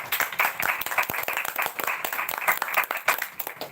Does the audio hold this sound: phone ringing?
no